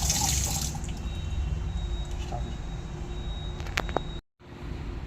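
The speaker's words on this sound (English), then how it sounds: "wash it with water." Tap water runs steadily while dental instruments are rinsed in a sink, a continuous wash with small drips and clinks, cutting out briefly near the end.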